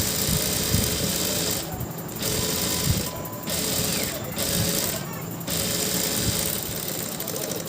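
A sewing machine stitches a blouse waist piece, its motor whirring loudly in several runs of a second or more, broken by short pauses.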